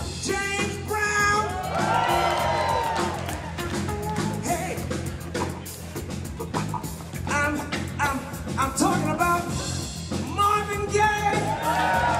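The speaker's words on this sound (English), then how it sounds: "I want you to give them a round of applause, okay?" An audience at a live stage show cheers, whoops and yells throughout, a loud, continuous crowd roar with rising shouts.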